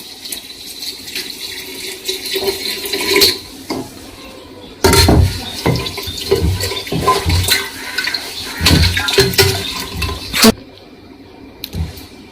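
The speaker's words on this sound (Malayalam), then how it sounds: "ഇത് നമുക്കൊരു രണ്ട് ലിറ്റർ വെള്ളം എടുത്തിട്ടുണ്ട് അത് നമുക്ക് ഇതിലോട്ട് ഒഴിച്ചു കൊടുക്കാം" Boiled water is poured into a container for making rambutan wine, a close, gushing splash that comes in several bursts with short pauses between, mixed with stirring and clinks of the vessel.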